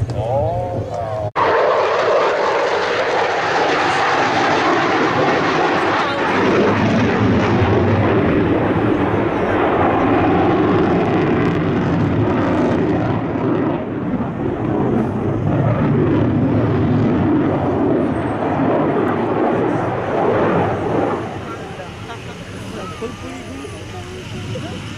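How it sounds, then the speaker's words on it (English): A fixed-wing airplane on final approach and touchdown at a Marine Corps air show in Kaneohe, Hawaii, giving a loud, steady engine roar close by that holds for about twenty seconds before tapering off. "As he goes down, sliding the airplane right down on the runway."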